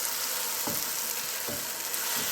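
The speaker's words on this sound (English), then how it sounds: "I'm just gonna kind of move the spatula around just a little bit" A spatula stirring applesauce in a pan: a continuous close sizzle with two or three soft scraping strokes rising out of it, and no voices.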